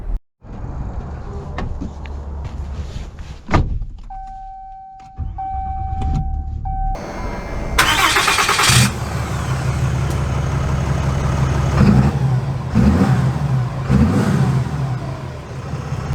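A 2023 Ram 2500 Longhorn Mega Cab pickup starts up and drives off, the engine settling into a loud, steady rumble that rises as the truck gets moving, with a brief mechanical whir before the engine catches.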